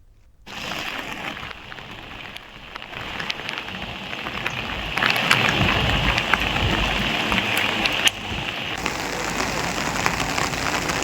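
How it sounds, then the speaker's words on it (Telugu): Heavy rain with gusty wind pours steadily during monsoon flooding in Telangana, a dense continuous hiss with scattered sharp drops, loud and close throughout, with no talk. "ఈదురుగాలులతో కూడిన వర్షం పడుతోంది."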